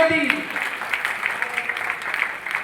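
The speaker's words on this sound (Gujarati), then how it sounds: "જોરદાર તાળીઓથી" A crowd at an outdoor community dayro gathering for a cow shelter in Kanthkot claps loudly and steadily, a dense, even patter of many hands that fills the whole stretch.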